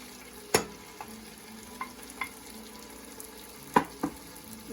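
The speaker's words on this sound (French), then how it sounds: "Et ensuite, je vais mettre mes poireaux." Leeks going into a frying pan with carrots and being stirred, a few brief scraping clatters over a faint steady sizzle, close and quiet with no talk.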